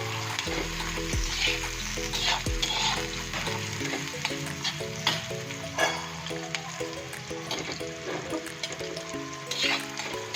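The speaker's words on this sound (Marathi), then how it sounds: "आपण त्यात आता हा बारीक चिरलेला कांदा घालणार आहोत असा आणि कांदा चांगला लालसर होईपर्यंत भाजून घ्यायचा" Finely chopped onion fries in oil with cumin, a continuous sizzle with stirring, heard under background music with a steady melodic beat.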